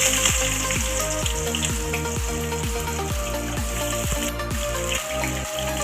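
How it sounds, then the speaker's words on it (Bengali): Onions frying in oil with bay leaves and dried chillies for a fish-head dal, giving a steady sizzle broken by regular, rhythmic stirring scrapes in the pan. "তো দেখো পেঁয়াজটা আমার ভাজা হয়ে গেছে।"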